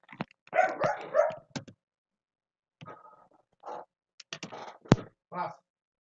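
A dog barks indoors in a few sharp bursts separated by short pauses, fairly close and moderately loud, with no voices between the barks.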